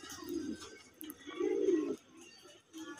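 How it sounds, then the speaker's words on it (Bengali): Pigeons at a pigeon farm in Shailkupa, Jhenaidah, give soft, throaty coos in three short bursts, near and gentle with quiet pauses between them. "আর এই যে গাছ গাছেও আছে অনেকগুলা কবুতর"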